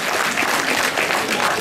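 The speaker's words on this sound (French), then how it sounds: "On l'applaudit très fort" A crowd claps loudly and continuously at a live event, with dense, even applause close by for the whole short stretch.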